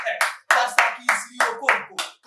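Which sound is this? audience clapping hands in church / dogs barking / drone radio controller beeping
audience clapping hands in church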